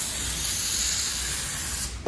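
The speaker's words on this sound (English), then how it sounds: "So we'll also spray some silicone on there," Silicone spray from an aerosol can hisses steadily onto the sunroof mechanism of a 1967 VW Beetle, one continuous close burst lasting about two seconds before stopping abruptly.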